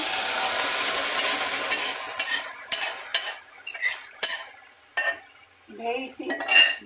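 Cooked toor dal mixture tipped into a hot mustard-seed and cumin tempering for soppu saaru: a loud, bright sizzle that fades over several seconds while a spoon clinks and scrapes against the pan.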